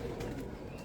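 A brief, quiet burst of pigeons cooing nearby, low murmuring calls over a soft background, no speech.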